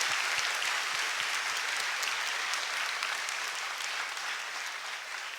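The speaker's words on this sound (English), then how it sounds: "I think Dr. Mahathir deserves a round of applause" Audience at a lecture with Dr. Mahathir applauding him, a continuous round of many hands clapping that eases off slightly toward the end.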